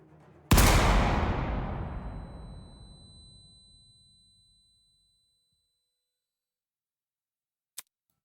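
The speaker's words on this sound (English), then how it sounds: "the sound of a gunshot echoed in our ears" A single loud gunshot cracks out and echoes away over several seconds, followed by silence and a brief faint click near the end.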